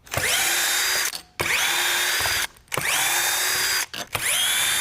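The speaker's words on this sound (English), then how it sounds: "Let's go ahead and start putting these screws in." A power drill whirs in three long bursts, each spinning up and bogging down as a screw drives in, with brief pauses between them, while installing shutter track.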